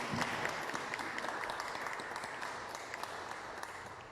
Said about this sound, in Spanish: Le damos un aplauso a Raimundo porque ya es hijo de Dios.